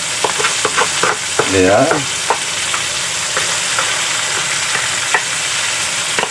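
Crab with tausi frying and being stirred in a pan, loud sizzling with scraping strokes of the spatula, and a person briefly speaking.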